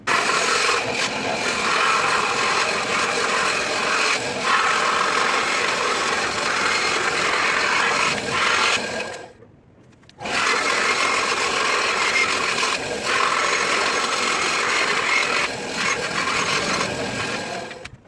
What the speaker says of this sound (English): let's head over to the bandsaw and get them cut